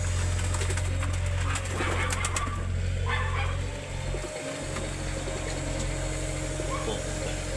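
Pigeons in a backyard loft of hybrid birds, cooing and fluttering under a steady low hum of ambient noise, with soft calls and occasional wing flaps throughout.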